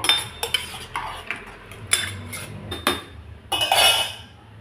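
A metal spoon scrapes and clinks against a pot of rice and water being stirred with salt, in irregular bursts, close by, with soft stirring sounds between the knocks.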